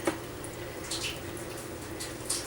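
A small siphon hose drains water from a 10-gallon aquarium with a faint, continuous trickle and gurgle, a few soft splashes and drips on top, close by with no talk.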